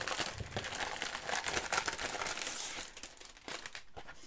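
Tissue paper wrapping crinkles and rustles continuously while a parcel from a stationery shop is unwrapped around a stitched A5 notebook, with close, crisp crackling bursts and no talking.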